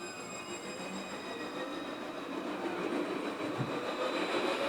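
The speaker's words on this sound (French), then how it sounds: "J'attends le tram là" A tram rolls along its rails, giving a steady, mid-distance rumble that grows slightly louder, with faint metallic whine and wheel squeal above it and no speech.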